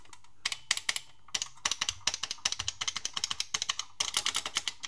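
Typing on a Fuller keyboard for the ZX Spectrum: bursts of sharp, close plastic key clicks in quick irregular runs, with brief pauses between groups and no voice.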